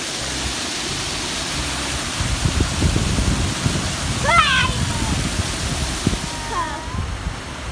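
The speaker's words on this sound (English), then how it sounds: "At the waterfall." The waterfall at Rifle Falls gives off a steady, full rushing roar throughout, with low gusty rumbles and a couple of brief bird calls breaking through near the end.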